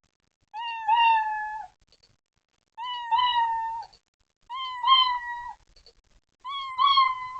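A cat meows four times in drawn-out, evenly spaced calls, clear and close against a quiet background.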